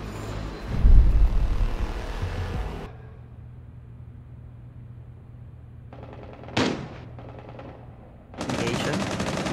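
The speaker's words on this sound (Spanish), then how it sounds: "le fallé todos los tiros a Green." Gunfire in the video game Rainbow Six Siege during a ranked match: a dense loud burst of rapid shots, a pause with low rumble, one sharp shot, then another loud burst.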